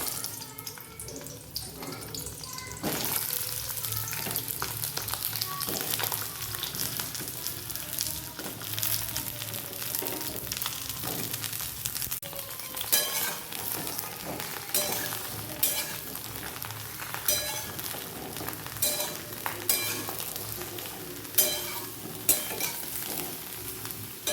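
Eggplant pieces frying in hot oil in a home kitchen, a continuous close sizzle broken by repeated scrapes and clatters of stirring throughout, fairly loud with no talk.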